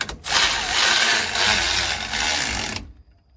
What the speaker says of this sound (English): we're gonna try it out with the normal Milwaukee ratchet.